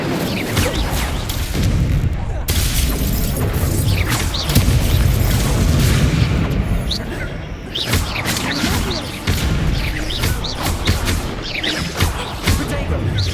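An Incendio fire spell blasts in Hogwarts Legacy, a loud booming burst of flame amid dense, continuous crackling and rumbling game effects.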